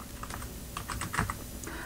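Quiet, quick typing of code on a computer keyboard, a brief run of soft, irregular key clicks heard close and alone.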